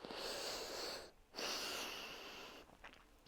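Deep breaths during a yoga session: a long airy exhale, a brief pause, then another drawn-out breath that fades, close and soft with a slight wheezy hiss.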